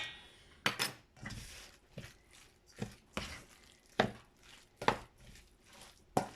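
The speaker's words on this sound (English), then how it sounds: "so let's give that a really good mix" Sweet potato and kale burger mixture being mixed in a bowl, a rhythmic run of close, sharp thuds and scrapes roughly every half second, no voices.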